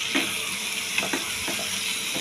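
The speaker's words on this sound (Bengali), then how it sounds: "মাশরুম ও মশলার সাথে কষিয়ে দিচ্ছি" Mushrooms frying in oil with spices, a soft steady sizzle broken by a few light scraping stirs of a spatula, close and fairly quiet.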